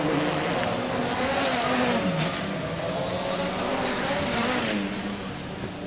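Rallycross cars at Estering racing hard and drifting through corners, a loud sustained engine roar with shifting revs and a dip as a car slides through a bend, with no voices.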